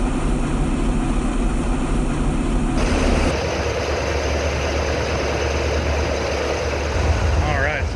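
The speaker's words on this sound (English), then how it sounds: "The exhaust tone of the truck has definitely changed." A carbureted truck engine runs steadily on full fuel pump pressure with a deep exhaust rumble and droning tone throughout, loud and close.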